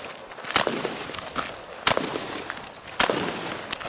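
A shotgun fires during a shooting skill drill, giving three sharp, fairly loud reports about a second apart, with a few fainter clicks and knocks between them.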